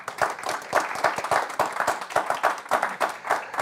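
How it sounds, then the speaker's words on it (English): Audience in a conference room applauding panelists after a tax transparency discussion, sparse, distinct claps in an uneven rhythm, close and moderately loud. "So how about a round of applause for our panelists for some great insights."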